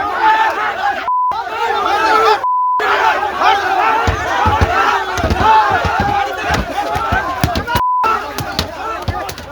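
An angry crowd attacking a BJP MP and MLA in North Malda, West Bengal, with loud massed shouting and yelling throughout, sharp bursts and thuds, and repeated beeps cutting through the din.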